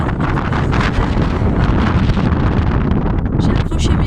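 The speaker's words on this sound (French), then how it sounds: "il y a un vent de dingue" Strong mountain wind at about 2300 m altitude on a ski-touring climb, loud and continuous as it buffets the microphone in heavy, roaring gusts for the whole stretch.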